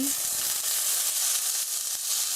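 Oil heating in a frying pan sizzles steadily and loudly throughout, a dense continuous hiss with no talking.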